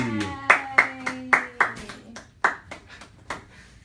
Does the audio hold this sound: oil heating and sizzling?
no